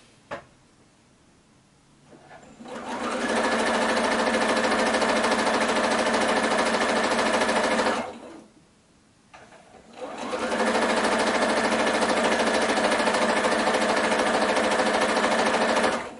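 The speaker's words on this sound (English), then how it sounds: "I'm just stitching first two cuts one after another, and then I will be going back and chain piece 3, 4, and 5." A sewing machine chain-stitches quilting fabric pieces cut on the bias for a scrappy fan block, running in two long steady bursts separated by a short pause, loud and close with no talking.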